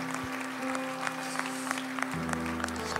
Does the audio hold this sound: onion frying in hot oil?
no